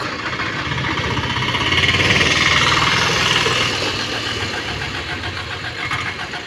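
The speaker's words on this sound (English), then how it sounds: "Let me show you a three-legged vehicle here. It's called tuk-tuk." A three-wheeled tuk-tuk auto rickshaw engine runs in a neighborhood in Tassia, Embakasi, a steady buzzing putter with a broad hiss, loud and close and swelling slightly in the middle.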